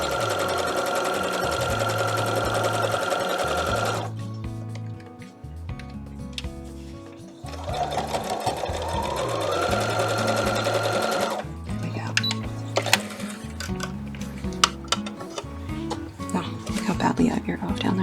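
A sewing machine stitches a quarter-inch seam for a quilt block in loud bursts that stop and restart, with a steady mechanical chatter and clicks between runs of stitching.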